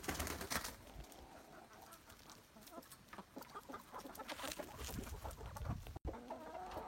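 Americana hens and roosters in a backyard flock cluck and call continuously at close range, with scattered sharper squawks, brief wing flaps, and a steady farmyard bustle throughout.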